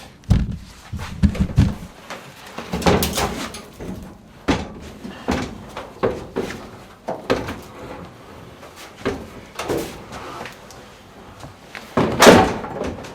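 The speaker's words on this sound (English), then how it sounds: "Now back to the sliding door." A VW T3 van's sliding door is worked on, with repeated metallic knocks, rattles and slams scattered irregularly over several seconds, close by and without speech, ending in a louder bang.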